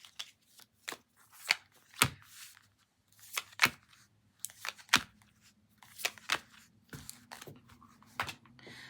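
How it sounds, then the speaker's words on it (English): Oracle cards being shuffled by hand nearby, a series of crisp riffling snaps and flutters in irregular bursts with brief quiet gaps between, no speech. "We're going to the Citadel cards first, and then we'll pull from some other past life cards that I like too."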